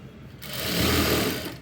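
A sewing machine runs in one steady, fairly loud burst, stitching the lining of a shaped belt with a continuous mechanical whir that rises after a brief start and fades near the end.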